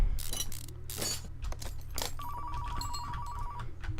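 In Car Mechanic Simulator 2015, a phone rings with a steady electronic trill lasting about a second and a half, mid-level, over workshop clatter and metallic clicks of tools.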